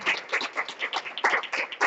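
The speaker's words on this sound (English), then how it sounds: "applause" Audience applause after a guest's talk at a business presentation, a dense patter of many hands clapping steadily and fairly close throughout, with no voices over it.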